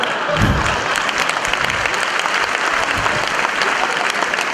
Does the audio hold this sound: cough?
no